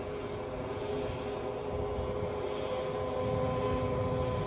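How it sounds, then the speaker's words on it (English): A Qatar Airways Airbus A350-900 arriving at Edinburgh Airport, heard as a moderate, steady engine drone with distinct humming tones over a low rumble, slightly louder toward the end, no voices. "the inbound aircraft, 6 years of age, an A350-900"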